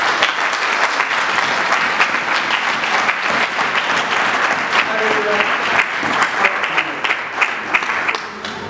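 A church congregation breaks into loud, sustained applause, dense clapping filling the room for several seconds without pause.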